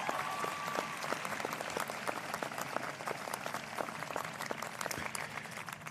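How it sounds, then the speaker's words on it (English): Steady applause from a large high school graduation audience, dense clapping that holds at an even level throughout with no voices rising above it. "How about a nice round of applause for these folks?"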